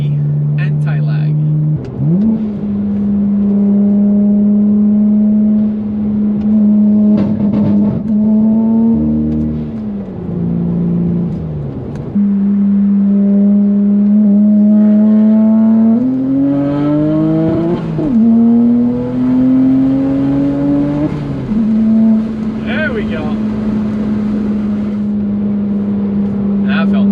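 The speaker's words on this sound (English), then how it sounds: "Second gear pull with anti-lag." A 2009 BMW 135i with the N54 engine pulls hard in second gear with anti-lag, its loud engine drone climbing steadily in pitch through repeated surges, with brief dips between pushes and rising again toward the end.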